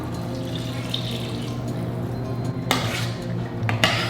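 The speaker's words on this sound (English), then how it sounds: "We're gonna add our water now." Water splashes and runs into a cooking pot while lentil spaghetti bolognese is made in a home kitchen, with a steady pour, then metallic clinks and knocks of pot and utensils near the end.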